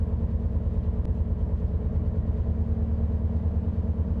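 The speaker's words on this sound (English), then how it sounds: "I think the engine is on. I can hear it." A diesel train engine in Train Sim World 6 on the Riviera Line runs at a steady idle, giving a loud, continuous low rumble with one faint tick and no talk.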